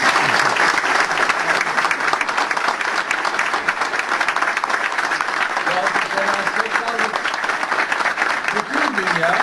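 Audience applause at a Turkish political speech by a deputy prime minister, sustained loud clapping from a large crowd with scattered cheers and voices rising through it toward the end.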